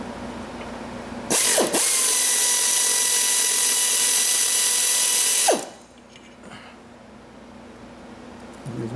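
An air ratchet spins off bolts from a mower disc on a Briggs & Stratton V-Twin Ariens Emperor: one loud, steady mechanical whir lasting about four seconds, with short bursts at its start and end, then quiet workshop ambience.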